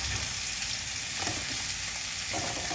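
Vegetables added to a hot frying pan after the stalks, giving a steady, loud sizzle with faint stirring scrapes, close and continuous with no voices.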